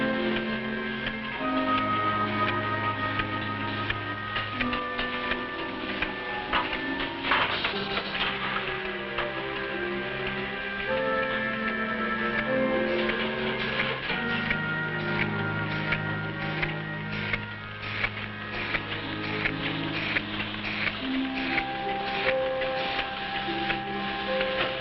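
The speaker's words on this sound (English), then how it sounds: "This machine places empty capsules into a circular metal disc." A capsule filling machine places empty capsules into a circular metal disc, a steady mechanical ticking and clicking with whirring tones running continuously throughout.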